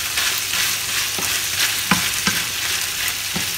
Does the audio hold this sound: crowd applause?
no